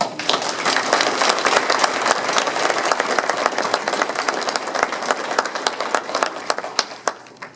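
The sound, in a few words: audience applause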